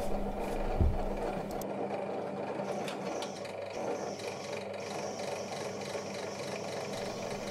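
A cheap drill press bores into a thin-walled square metal tube, giving a close, steady mechanical whir and rattle after a brief louder knock at the start.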